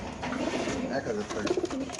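Pigeons coo softly in short low phrases at a pigeon sale where racer and local birds are sold, under steady background chatter from the crowd.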